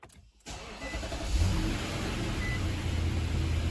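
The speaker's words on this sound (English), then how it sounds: "we're going to try starting the car." A Nissan or Infiniti SUV with a high pressure fuel pump lifter problem cranks and starts after a short pause, its engine then catching and settling into a steady, rumbling idle close by, with no talking.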